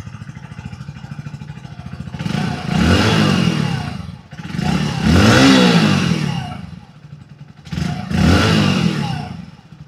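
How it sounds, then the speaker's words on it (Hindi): A 2024 Hero Splendor Xtec 2.0 motorcycle exhaust burbles at a low idle, then revs up in three strong bursts that each fall back to a steady putter. "अब हम इसका एग्जॉस्ट नोट आपको सुनाते हैं"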